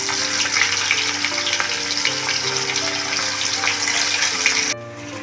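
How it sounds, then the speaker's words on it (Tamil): Cauliflower florets sizzle steadily in hot oil as they deep-fry, a dense hiss and crackle that drops away abruptly near the end. "காலிஃப்ளவரை பொரித்து எடுத்துடலாம்."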